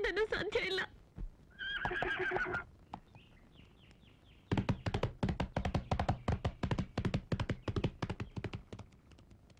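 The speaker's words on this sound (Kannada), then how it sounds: "ಅದು ಹೊಸ ಕುದುರೆ ಅಂತ ಗೊತ್ತಿಲ್ವೇನು?" A newly acquired, still untamed horse whinnies in two harmonic bursts, followed by a run of quick, sharp tapping thuds that continue to the end.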